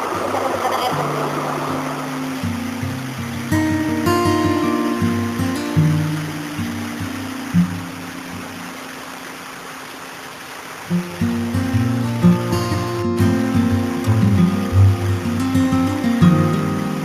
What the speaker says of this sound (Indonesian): pesona alam tebing air terjun Patikore